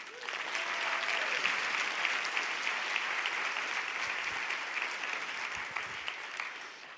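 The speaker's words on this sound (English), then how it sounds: "Let's get a round of applause for chiropractic." An audience of chiropractors bursts into sustained applause, a dense, even wash of many hands clapping that holds steady and eases slightly toward the end.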